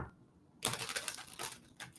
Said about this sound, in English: One more shuffle because it feels right.